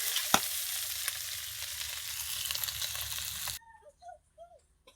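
Food sizzles and gets stirred in a hot pan while sautéing, a steady close frying hiss for a few seconds that cuts off abruptly, leaving a quiet room.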